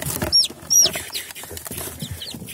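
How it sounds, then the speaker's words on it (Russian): A week-old Tsarskoye Selo breed chick being picked up by hand gives a few sharp, high peeps over soft rustling and scuffling, close by. "Вот, берем царскосельского цыпленка."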